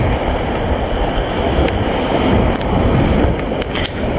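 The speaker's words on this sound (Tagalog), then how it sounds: "Lakas pala hangin dito." Strong wind roars steadily across the microphone at sea during bonito fishing from a boat, with a low engine-like rumble beneath the constant buffeting and no talk.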